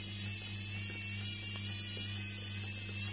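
A washing machine motor spins with its speed regulator cranked all the way up, giving a steady high whine with a mechanical ratcheting rattle underneath, continuous and close.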